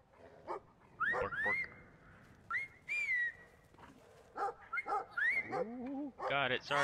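A puppy in the video game Brothers: A Tale of Two Sons gives a string of short yips, barks and whimpers, close and fairly loud, interspersed with a voice making playful calls.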